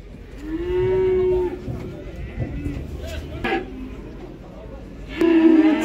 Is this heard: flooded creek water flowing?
no